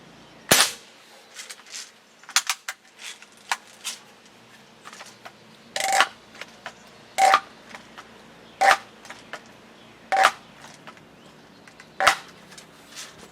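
A Crosman 760 Pumpmaster air rifle is pumped and fired repeatedly, giving a series of sharp, close snaps spaced a second or two apart, with softer clicks and mechanical handling noises between shots.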